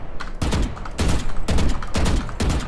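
Rapid bursts of gunfire from the Valorant shooter game ring out in several loud, sharp volleys spaced roughly half a second apart, with strafing movement between them and no talking.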